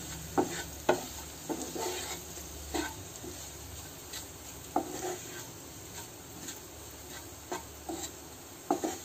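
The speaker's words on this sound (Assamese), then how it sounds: "তিলখিনি অকণমান এনেকৈ ভাজিম" Ground sesame seeds frying in oil in a pan, with a steady low sizzle under repeated scraping, clinking strokes of a spoon stirring them, evenly spaced and close by.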